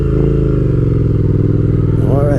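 Engine of a 2020 Triumph Speed Twin motorcycle running steadily through a gear change, a continuous close, loud rumble with a brief rising rev near the end.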